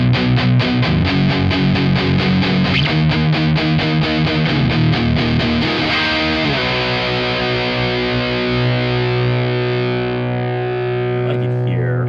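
Distorted electric guitar through a Marshall DSL20HR amp with presence turned fully up: loud, continuous playing, first fast palm-muted chugging chords, then sustained ringing chords that slowly decay, with no talking.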